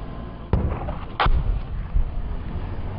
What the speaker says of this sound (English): a mortar from Syria lands just across the road from us